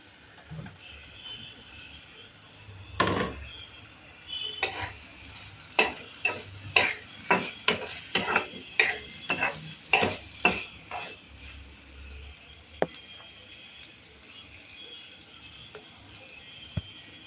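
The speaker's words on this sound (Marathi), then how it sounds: "आता त्यामध्ये वाल घालूया वाल घालते" Black val beans go into a cooking pan and are stirred, a run of distinct clinks and scrapes from the spoon against the metal pan in a fairly regular rhythm, then quieter sizzling.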